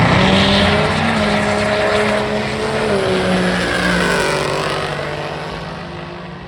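Diesel drag car with an enormous turbo accelerating down the strip at a drag racing event, a loud, sustained engine roar with rising, whining tones that slowly fades as the car pulls away.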